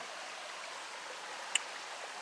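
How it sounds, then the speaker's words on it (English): Soft, steady broadband rush of flowing stream water, continuous and even throughout, with one brief faint tick partway through. "pitched my tent right next to the stream to hear the sound of the water all night long"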